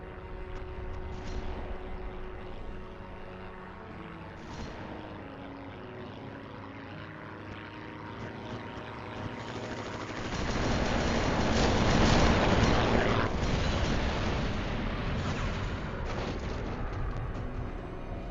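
In the WWII Online video game, propeller aircraft drone steadily with layered engine tones, then a loud, broad rumbling blast swells in and lingers, with no talking.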